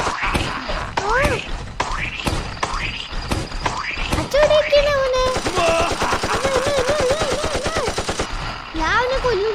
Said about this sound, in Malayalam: ഞാൻ വെടിവെക്കാണ്.